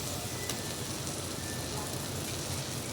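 Chili, masala, coriander and turmeric powders sizzle in oil as they are sautéed in a pan for a chicken dish. The frying hiss is soft and steady, continuous and without breaks.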